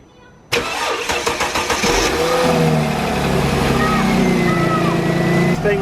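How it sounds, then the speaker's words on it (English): A Mercedes W220 S-Class cranks with a quick run of starter pulses after silence, then catches and settles into a loud, steady idle close by. "Let's get the car started."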